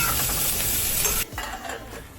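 Bitter gourd pieces stirred in a hot tempering of mustard seeds, asafoetida and turmeric, with a steady loud sizzle that drops sharply partway through to a quieter crackle.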